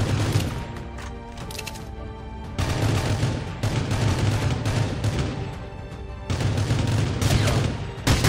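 Bursts of gunfire from the Rules of Survival battle royale game, with an M14 among the weapons, crackle in rapid volleys that pause and resume, loud and close.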